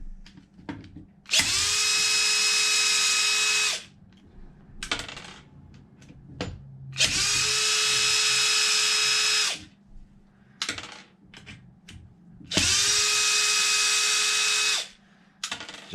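A cordless power drill fitted with MIP hex bits whirs in three long bursts as it backs bolts out of an Arrma Mojave 8S 1/5 scale RC car. Metallic clicks and the clatter of small parts fill the gaps between bursts.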